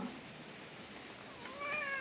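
A female cat gives a faint meow late in the clip, a rising, tonal call over a quiet indoor background.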